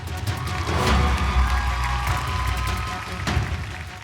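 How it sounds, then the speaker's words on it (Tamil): Audience applause at a school event, a steady, full wash of clapping from a crowd that swells and holds for a few seconds, with no voices over it. "அதுக்கு ஒரு பெரிய கைத்தட்டல் கொடுத்துடலாம்"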